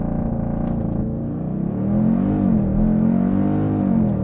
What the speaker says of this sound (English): activate launch control, apply brake pressure, full throttle